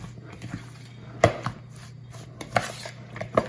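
Coleslaw being tossed with dressing in a bowl, heard as a few soft, scattered clicks and scrapes of utensils against the dish over a quiet background hum.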